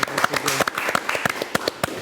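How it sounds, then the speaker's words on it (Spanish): Scattered hand claps from a studio audience sending off a guest, sharp and irregular, mixed with brief talking near the start. "despidámoslo con un fuerte aplauso"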